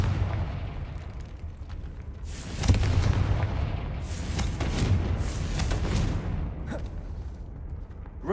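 Repeated explosive blasts from the Confringo blasting spell in Hogwarts Legacy, booming bursts rising out of a continuous rumbling battle din, with no talk.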